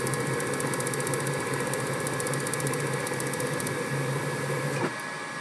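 Gas furnace starting up, its induced draft motor running with a steady loud whir and buzzing hum and the igniter operating, the whole drone dropping off abruptly near the end.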